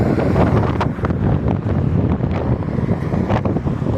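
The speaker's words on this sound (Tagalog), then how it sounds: "Mas malakas pa yung hangin guys sa init guys" Strong wind buffets the microphone in a steady, loud roar, with no voices heard.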